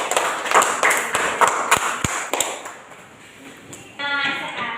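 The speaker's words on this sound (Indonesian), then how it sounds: "kasih tepuk tangan dulu untuk kelompok 1 nak" A school class gives a short round of applause for the first student group; scattered, irregular hand claps sound close by, fading after a few seconds as a voice is heard.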